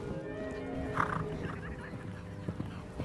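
A horse gives a short neigh near the start of the clip, and its hooves clip-clop in a steady rhythm close by. No one speaks.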